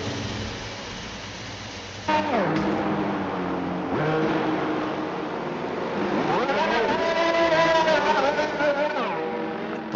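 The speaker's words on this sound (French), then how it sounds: "Attention à la sortie des stands là, vous le voyez entre la McLaren et Théo." Formula 1 cars leaving the pit exit during qualifying at the Japanese Grand Prix, with high engine whines that rise and fall in pitch as the cars pass near and loud. The sound runs almost continuously throughout.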